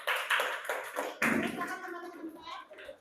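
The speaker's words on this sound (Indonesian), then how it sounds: "Beri tepuk tangan kepada kelompok 3" A class of students claps briefly for a presenting group, a few close, uneven bursts of hand claps with talking and voices mixed in toward the end.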